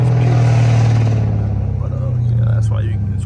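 A rebuilt all-wheel-drive Dodge Charger engine roars loudly nearby in a sustained deep rev that gradually eases off, with a voice speaking over it toward the end.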